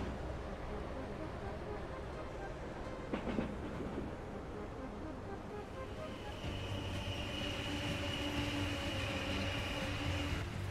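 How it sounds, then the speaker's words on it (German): A freight train in the railway simulation game Transport Fever rolls on with a steady low rumble, a brief metallic screech midway and a faint high whine later. "Gut, haben wir hier aber schon mal einen weiteren Zug."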